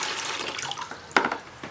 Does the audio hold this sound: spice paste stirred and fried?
no